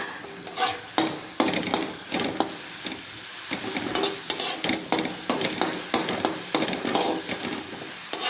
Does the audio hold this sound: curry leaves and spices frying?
yes